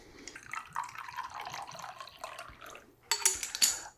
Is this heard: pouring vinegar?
yes